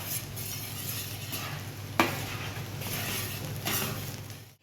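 Finely chopped peppers sautéing in a pan for bulgur pilaf, a steady soft sizzle with a sharp utensil clink on the pan partway through and a brief stirring scrape near the end.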